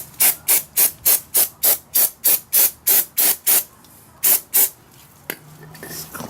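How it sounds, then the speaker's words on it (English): Brake parts cleaner sprays onto a motorcycle brake rotor in a quick rhythmic run of about a dozen short hissing bursts, then a couple more after a pause, close and loud, followed by faint handling noises. "Clean it up a little bit with some brake parts cleaner."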